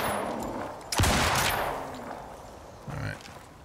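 A gun fired in the survival game Icarus, one strong blast followed by a booming tail and a second softer shot about two seconds later, heard over a dense rumbling background.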